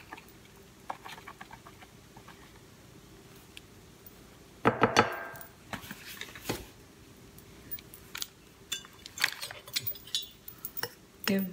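Cake mix being stirred in a bowl, mostly quiet light scraping and tapping with a sharper clatter midway, then uneven spoon knocks and swishes continuing close up.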